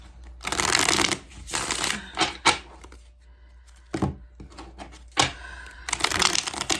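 Tarot cards are shuffled in several quick riffling bursts, crisp and close, separated by short pauses and a few soft taps.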